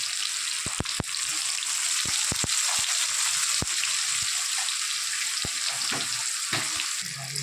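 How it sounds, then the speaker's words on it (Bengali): Tomato and onion sizzling in a hot pan with salt while fish curry is cooked, a steady close frying hiss with scattered sharp clicks and knocks from stirring. "এই টমেটো পেঁয়াজ সব ভাজা ভাজা মতন হয়ে গেছে।"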